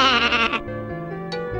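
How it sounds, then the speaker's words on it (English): A sheep in an animated show bleats loudly and close, a long wavering call followed by shorter trailing bleats. "sheep has no one to bleat to"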